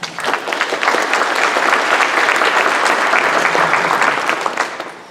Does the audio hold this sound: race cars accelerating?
no